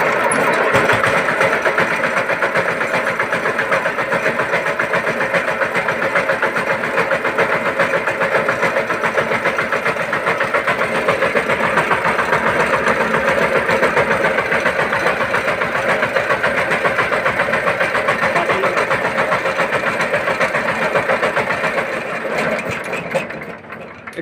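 A China CD motorcycle engine under repair runs continuously at a steady idle, a loud close buzzing drone with fine rapid pulsing that holds evenly before tapering off near the end.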